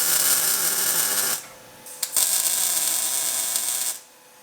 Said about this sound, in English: for now, I'll just tack weld it into place